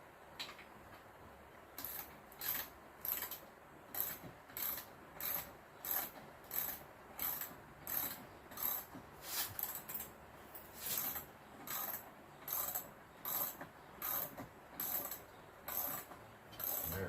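Ratchet wrench backing bolts out during roll cage work, a rhythmic series of sharp clicking strokes repeating steadily, close and fairly quiet, with no talking.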